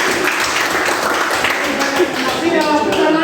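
A classroom audience claps for a student group after its presentation. The dense, loud applause runs for a few seconds while voices carry on beneath it.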